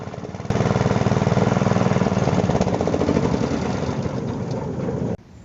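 An irrigation pump engine in a village setting catches with a sudden start, then runs with a steady rhythmic chugging throughout, loud and close, before cutting off abruptly at the end.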